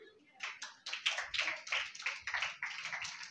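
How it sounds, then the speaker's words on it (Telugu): A small audience at a Bible study class claps in a quick, uneven burst of individual hand claps, fairly close and moderately loud, with a voice faintly present underneath. "వాడిని బట్టి చప్పట్లు కొట్టండి"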